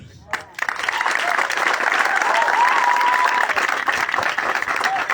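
A large crowd bursts into sustained applause with scattered cheers, loud and continuous; a brief voice is heard just before the clapping starts.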